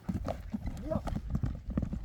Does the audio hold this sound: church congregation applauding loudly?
no